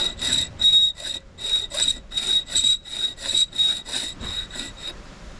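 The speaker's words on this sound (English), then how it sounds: "this last one just needs a little bit of filing" A hand file rasps back and forth on a steel part for a 7¼-inch gauge miniature Garratt steam locomotive, about a dozen even strokes in a steady rhythm, close and alone.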